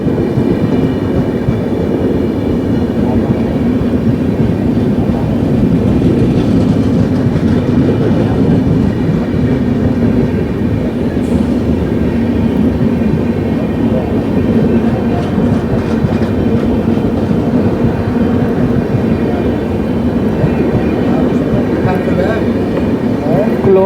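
The 22361 New Delhi Amrit Bharat Express, hauled by a WAP 7 electric locomotive, runs at speed with a loud, steady roar of wheels and rumbling coaches, heard from on board for the whole stretch.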